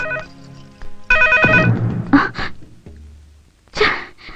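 A telephone rings in a Malayalam comedy film scene, loud electronic ring bursts broken by pauses, with a short gasp-like breath and rustling between rings.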